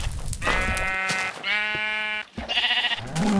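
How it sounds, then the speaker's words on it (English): A Minecraft sheep bleats in two or three drawn-out, wavering calls, clear and close with little else around them. "I got a sheep as well."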